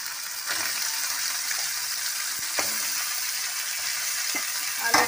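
Potatoes fry in the oil left over from frying fish, giving a steady, close sizzle and crackle throughout, with a few faint clinks of stirring.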